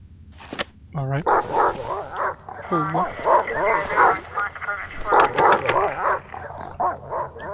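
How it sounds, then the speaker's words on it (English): A dog barks repeatedly in the game Silent Hill: Downpour, rapid yipping and whimpering bursts up close, with a player talking over parts of it. "Dog is locked in."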